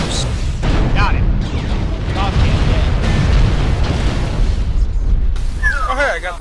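Missile explosions in MechWarrior Online during a forest colony ambush, a dense continuous run of booming blasts and rumbling impacts filling the whole stretch, with voices talking over the barrage.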